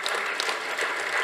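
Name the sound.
audience applause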